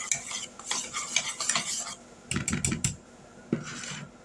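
A spoon stirs a seasoned mixture in a bowl for deep-fried squash, producing close scraping and clinking in short bursts separated by brief pauses.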